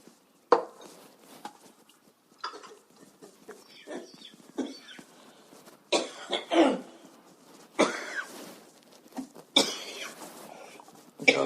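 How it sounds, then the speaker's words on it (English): A runner on a rest day coughs in a series of harsh, irregular bursts with throat clearing, close to the microphone, separated by short quiet pauses. "Coughing like that can make your head spin sometimes."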